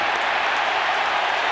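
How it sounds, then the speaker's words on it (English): Rugby league stadium crowd at a Brisbane Broncos versus South Sydney Rabbitohs match, a dense, loud, steady roar of many voices with no single voice standing out. "They were fuming, the crowd."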